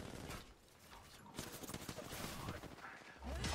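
Gunfire in the Apex Legends battle royale game, a dense run of rapid shots and impacts that holds steady for several seconds at moderate level, with a burst swelling at the end.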